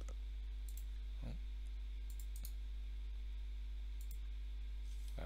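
Computer mouse clicks at a desk, a handful of sharp, faint taps spaced irregularly over a low steady hum, with no voices.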